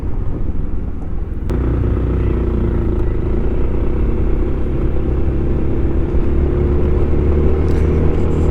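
A Can-Am Spyder three-wheeler's engine idles steadily up close after a sharp start, a loud continuous low rumble with a rough, uneven clatter that suggests something is not right.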